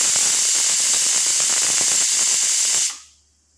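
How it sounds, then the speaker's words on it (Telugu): A kitchen pressure cooker, used while cooking jackfruit curry, releases steam in a loud, continuous high-pitched hiss with faint rattling, which cuts off abruptly near the end and leaves silence. "కుక్కర్ విజిల్లన్నీ అయిపోయండి."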